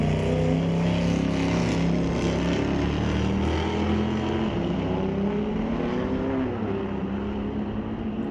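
Outlaw drag racing car roaring down the strip at a Friday night street legal drags event at Mission Raceway Park, a loud continuous engine drone with rising and shifting pitch that fades slightly as it pulls away.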